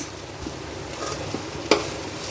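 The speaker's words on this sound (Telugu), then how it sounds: "ఇప్పుడు మళ్ళీ దీన్ని ఒక 10 నిమిషాలు ఫ్రై అవనిద్దాం" Mutton keema frying with ginger garlic paste in a pan, a steady close sizzle broken by a few stirring scrapes and one sharper clink of the spoon.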